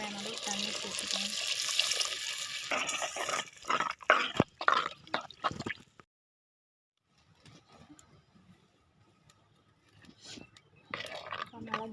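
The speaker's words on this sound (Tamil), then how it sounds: "தேவையான அளவு தண்ணி சேர்த்துக்கோங்க." Water poured into a pot of tamarind curry made with adamant creeper: a steady broadband rush lasting about six seconds, then a hush with faint scattered clinks and drips.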